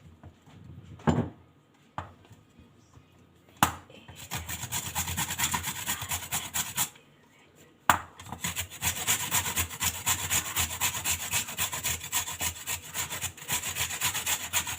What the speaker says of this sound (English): So I'm going to grate my carrots.